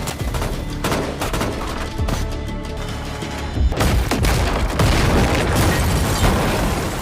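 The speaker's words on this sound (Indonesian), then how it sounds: "di tengah baku tembak yang masih berlangsung" Gunfire in a movie gunfight: dense bursts of shots and booming blasts crowd together at high volume throughout, with no speech over the barrage.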